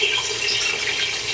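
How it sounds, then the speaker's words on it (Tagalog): Water being poured into a cooking pot of beef curry, a steady splashing, gurgling stream that stays close and fairly loud for its short span, with no voices. "Ilagay ko ang tubig."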